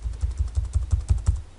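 Keys clacking on a computer keyboard as an email address is typed, a quick, even run of about a dozen light taps close by, with no voices.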